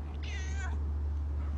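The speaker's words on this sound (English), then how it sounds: "I'm being attacked by cats, y'all." A street cat gives a single clear, drawn-out meow that rises and then falls, close by, over a constant low hum.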